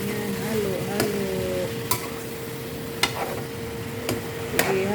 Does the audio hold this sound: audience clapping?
no